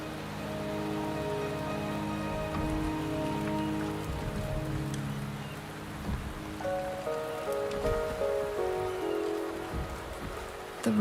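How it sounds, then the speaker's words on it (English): Steady rain falls in the Wuthering Waves video game, a soft even patter on surfaces that continues throughout beneath sustained musical tones, with no talk over it. "The rain is subsiding, and the sky will soon clear."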